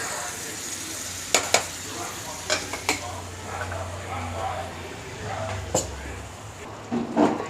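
Boiled potatoes are stirred into a chickpea kurma frying in a pan: a low sizzle runs throughout, broken by scraping strokes and a few sharp utensil clinks, with a voice speaking over it.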